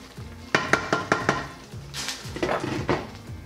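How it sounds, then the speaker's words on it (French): A spoon stirs pork stew seasoned with fish sauce in a pot, with a quick run of four or five sharp metallic clinks followed by softer scraping and a couple of muted knocks over a low simmer. "Je remue un petit peu."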